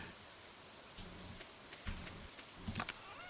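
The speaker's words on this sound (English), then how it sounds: "Yeah, it's raining again." Rain falling in the farming video game Stardew Valley, a steady soft hiss of drops that fills the whole stretch, with a few brief louder pattering bursts and no talk.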